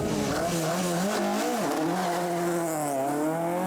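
Brian Brogan's Ford Escort rally car screams through a stage of the West Cork Rally, its engine howling loud and close with rising and falling revs, steady from start to finish.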